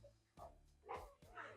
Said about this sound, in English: If you hear any funny noises, that's my dog.